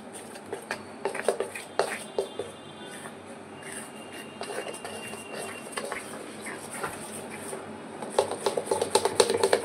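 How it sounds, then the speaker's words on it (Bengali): A spoon stirs turmeric into chila batter in a bowl, producing a run of quick, irregular clinks and scrapes against the dish at close range, some taps sharper and louder than others. "এবার হলুদটা খুব ভালোভাবে মিশিয়ে নিতে হবে।"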